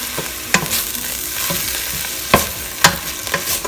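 Vegetable noodle sauce with sriracha being stir-fried in a pan, a steady close sizzle broken by sharp clinks and scrapes of the utensil against the pan, with no voices.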